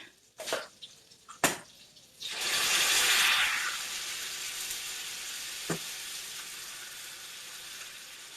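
Tomato sauce poured over browning meat in a hot pan bursts into a loud sizzle after a couple of sharp clinks, then settles into a softer steady frying hiss, with one more small clink near the end.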